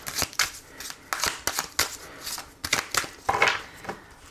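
Oracle cards shuffled and cut in quick bursts of crisp riffling and slapping, close and fairly loud, with brief gaps between the runs.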